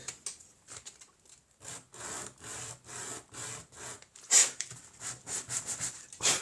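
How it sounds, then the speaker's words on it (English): Rhythmic scratchy strokes of sandpaper rubbing against a miniature dollhouse table, steady back-and-forth passes close up, with a few sharper rasps partway through. "this one needs a little bit more sanding"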